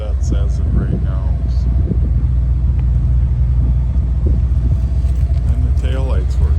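A 1986 Dodge W100 truck idles with no tailpipe and needs exhaust work, giving a loud, steady, deep rumble that runs the whole time, with voices faintly in the background.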